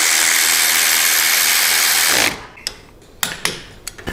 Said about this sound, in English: Put our pinch bolt back in, run it down, torque it 18 to 22 foot-pounds.